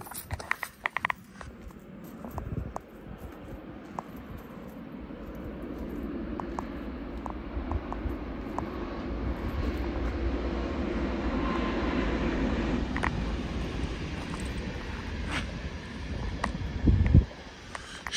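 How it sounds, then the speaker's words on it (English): A train passes through Czech countryside farmland. Its rumble builds gradually from afar and stays as a steady, moderately loud roar, with a louder burst near the end. "Here comes a train."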